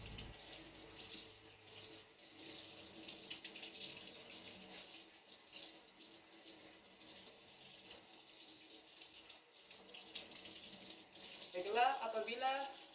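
Tap water runs steadily from a faucet into a sink while hands are rinsed from the fingertips to the elbows, a soft continuous splashing with a brief louder splash near the end.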